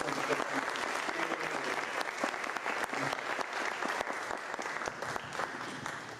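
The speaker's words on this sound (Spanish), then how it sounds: "Por favor, un fuerte aplauso." Audience at a psychoanalysis lecture in the Biblioteca Vasconcelos applauds steadily, dense sustained clapping filling the hall for several seconds without a break.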